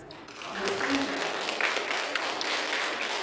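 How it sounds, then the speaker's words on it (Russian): Audience applause at a jubilee concert of the Moscow Tatar ensemble Idel, a steady wash of many hands clapping with some voices mixed in underneath. "Спасибо огромное за аплодисменты"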